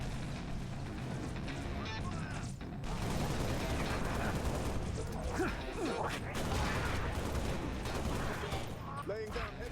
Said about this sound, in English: Laying down heavy fire.